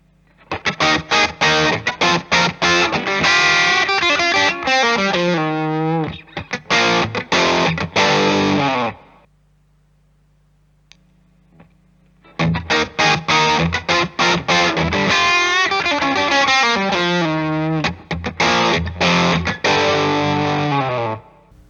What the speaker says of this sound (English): I will do a small sound check of the ODR, the large version